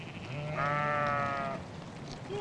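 A goat gives one long, wavering bleat, clear and moderately close over faint outdoor background noise, with no one speaking.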